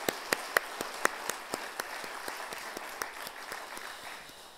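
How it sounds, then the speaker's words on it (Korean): A church congregation at a Sunday service claps together in a steady, even rhythm, with crisp individual claps standing out every quarter second above a softer bed of hands in a reverberant hall. "우리 모두가 한번 박수로 서로 위로합시다"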